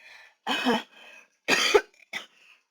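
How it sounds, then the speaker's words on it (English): Two throaty coughs from a tickle in the throat, followed by a shorter third, close and clear, with quiet pauses between them. "I'm about to cough"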